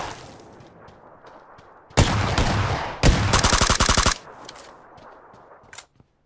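Gunfire in the video game PUBG Lite: two loud, close bursts of rapid automatic fire, the second a long rattling volley, followed by faint scattered single shots and clicks.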